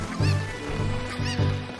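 Chicken in the video game The Legend of Zelda: Ocarina of Time 3D, giving three short, honking clucks in an evenly spaced rhythm, loud and close.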